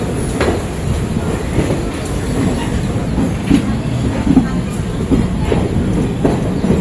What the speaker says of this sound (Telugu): ఇప్పుడు మన ట్రైన్ పావులాగా ట్రాకులు మారి వెళ్తుందండి